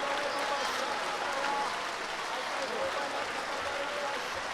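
A worship congregation at a large annual Christian conference claps hands continuously, dense steady applause filling the space with a faint crowd murmur beneath.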